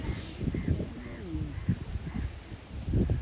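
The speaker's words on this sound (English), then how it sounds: "Look at the lot of bird," A flock of pigeons or doves at a lake on a windy spring morning. Soft coos come over steady wind and rustling, fairly faint, with a voice talking quietly in the background.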